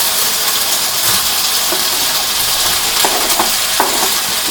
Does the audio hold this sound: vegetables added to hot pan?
yes